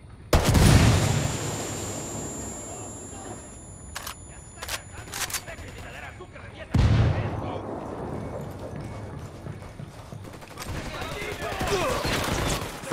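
A grenade blast opens with a loud, close boom in Ghost Recon Wildlands, followed by bursts of gunfire and a second heavy explosion, with voices talking over the combat.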